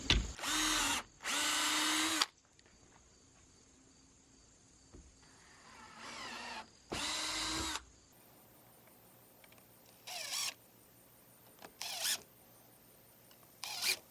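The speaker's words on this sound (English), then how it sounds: "I'm just going to pre-drill right along the top edge." A power drill pre-drilling wood along the top edge of a porch railing whirs in several short bursts, some longer and some brief, separated by quiet stretches with faint background hum.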